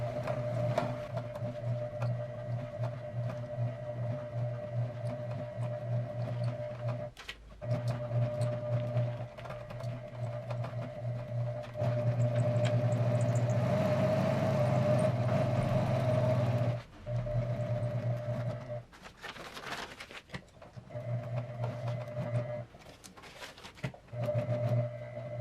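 Home sewing machine stitching on paper: a steady motor hum with rapid needle chatter runs in long stretches, pausing briefly and starting again, close and moderately loud, with no talking.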